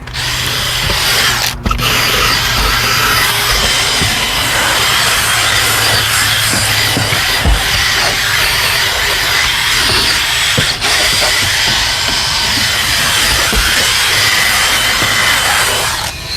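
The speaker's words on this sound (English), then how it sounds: "we start with the drill brushing process. Drill brush all the material." A power drill whirs continuously as a soft white-bristle brush attachment scrubs a speaker, a loud, steady grinding hiss with a brief dip early on.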